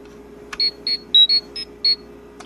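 A Mighty Morphin Power Rangers Legacy Power Morpher toy gives off a string of six short electronic beeps at uneven spacing, framed by two sharp clicks, close and clear.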